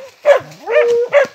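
A hunting dog barks three times at an animal down a burrow during a paca hunt, the loud, close barks separated by a drawn-out whine.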